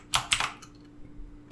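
Typing on a computer keyboard while writing PHP code for a Laravel project: a few quick, close key clicks in a short burst, then quiet.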